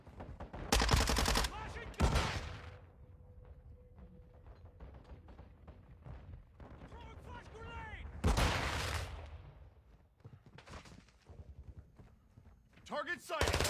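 Two submachine gun bursts in Warzone 2 rattle out, one near the start and one mid-way, separated by quieter stretches of game sound with a faint voice and a brief third burst near the end.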